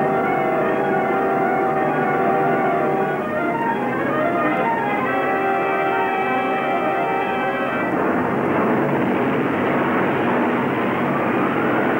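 Airplane engine in a Marx Brothers film scene, a loud steady droning roar with a harmonic whine that shifts partway through into a broader rushing engine noise, continuous and close.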